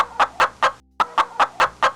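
A man imitates a chicken clucking, giving a run of about eight short, evenly spaced clucks with a brief pause partway through, close and clear.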